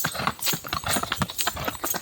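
Horse hooves clip-clop on hard ground during wood hauling in Tayabas, a quick irregular run of sharp, close knocks with no one speaking.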